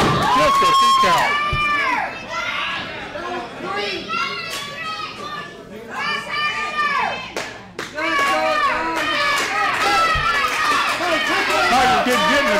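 Loud, excited crowd at an independent wrestling show yelling, cheering and whooping throughout, with high-pitched shouts and some announcer-style talk mixed in.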